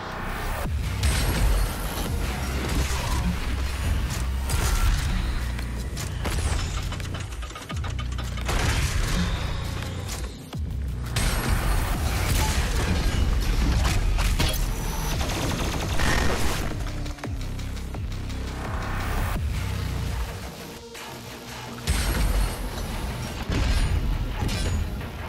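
Heavy, dense combat in Doom Eternal fills the air with booming super shotgun blasts, mechanical reload clanks and crashing impacts, continuous and loud throughout with brief dips, and no talking.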